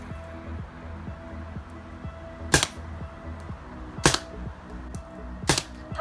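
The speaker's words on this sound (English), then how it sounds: "about to administer 3 paintball shots to me" Three sharp paintball gun shots crack out one after another at an outdoor charity event, spaced about a second and a half apart, loud and close over a low background hum.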